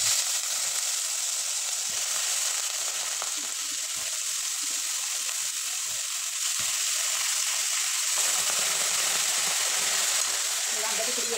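Brinjal pieces sizzle steadily in hot oil in a frying pan, a loud continuous hiss of frying that runs unbroken throughout with faint stirring underneath.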